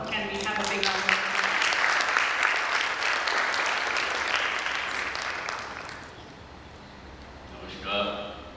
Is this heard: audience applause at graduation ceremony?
yes